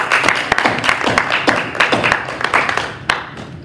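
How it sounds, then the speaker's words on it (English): A church audience at a Sunday celebration service claps for a musician, a short burst of scattered hand claps that quickly thins out and fades. "Let's give him another round of applause."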